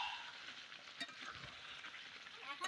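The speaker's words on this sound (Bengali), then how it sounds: "এখন আবারও একটু নাড়াচাড়া করে নিতে হবে" Chicken for Kolkata-style biryani stirred in a pan with milk, a steady soft sizzle with faint scraping throughout, close and alone with no voices.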